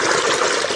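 Water gushes steadily into a tank once the power comes back on, a brief, even, full rushing sound with no voices.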